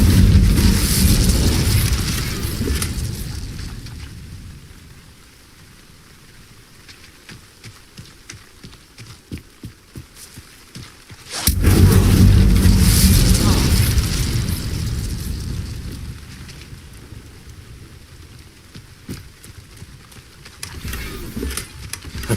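An Incendio fire spell cast in Hogwarts Legacy lands as two deep whooshing bursts of flame, each swelling loudly and then fading into a quieter rumble, with the second blast arriving partway through.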